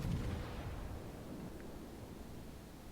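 Naval gunfire and plunging shells in World of Warships, a broad low rumbling boom fading into a rushing wash of noise, fairly quiet, with no talk over it.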